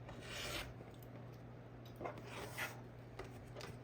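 A rotary cutter trims two sides of a quilting fabric block along a ruler, giving soft, close rasping strokes against a quiet room hum, with no talk.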